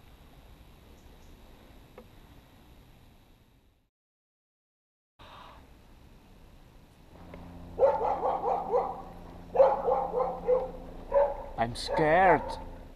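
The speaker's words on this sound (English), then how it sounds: "It's the dog." A dog barks in a string of short, close barks and yips. Speech runs alongside, and a quiet stretch and a pause come before them.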